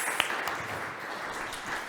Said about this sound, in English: You can give them all a round of applause if you would like